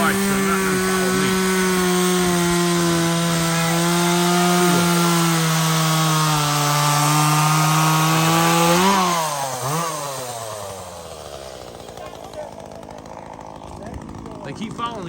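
A loud chainsaw runs steadily, its engine droning high, then revs and bogs as it bites into wood before easing off near the end.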